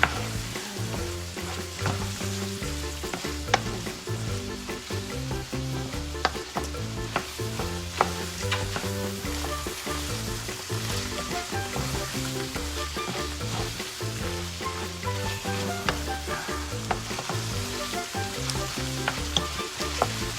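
Tomato sizzles steadily in a hot pan while being stirred for stuffed bell peppers, a dense continuous frying crackle with scraping stirs, close and loud throughout with no voices.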